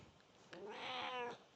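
A cat meows once, a drawn-out rising and falling call, close and fairly quiet in an otherwise calm room.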